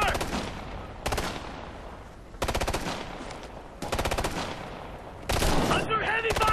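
Bursts of automatic gunfire from the video game Ghost Recon: Future Soldier come in long rapid volleys, five in turn, each loud and dense. Battle noise and shouting soldiers fill the gaps.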